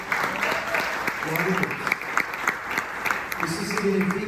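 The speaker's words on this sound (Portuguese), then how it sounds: "Você pode aplaudir a Jesus?" A church congregation claps and cheers during a celebration service, dense applause mixed with voices and murmuring throughout, fairly close and sustained.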